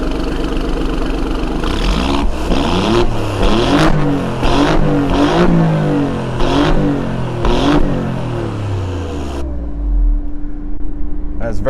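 A 2019 Alfa Romeo Giulia Quadrifoglio engine in race mode revs hard several times in quick, loud surges, dropping back between each, then settles to a lower rumble at the end.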